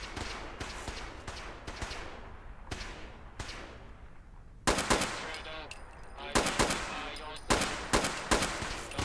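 Enemy gunfire in the video game Fallout London crackles in sharp, repeated bursts of automatic fire, with loud single shots and rapid volleys that come and go over a steady game background.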